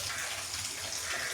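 Chilli-soaking water is poured into a pan of Kerala-style tuna curry, a soft, steady splashing wash heard close and quiet with no talk.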